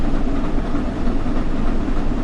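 Flying Scotsman steam locomotive under power in Train Sim World 4, a steady rumbling chug with rail clatter, continuous and fairly loud with no talk over it.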